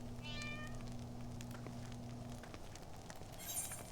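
Cat meows inside Final Fantasy XIV, a few short harmonic cries early on over steady game music and ambience, moderately loud.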